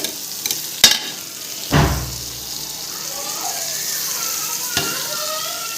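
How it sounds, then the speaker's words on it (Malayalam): Blended tomato and coriander paste hits a hot pan with a sudden burst of sizzling after a couple of sharp clanks, then settles into a quieter, steady bubbling sizzle. "തക്കാളി മല്ലിയിലി അടിച്ചത് നമുക്കിതിൽ കൂട്ടിക്കൊടുക്കാം."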